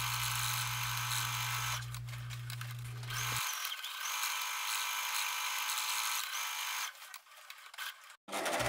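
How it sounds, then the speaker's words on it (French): A sewing machine running a seam one centimetre from the fabric edge on a jacket, a steady close mechanical whir that continues for several seconds, slows and stops near the end. "On réalise notre couture à 1 cm du bord."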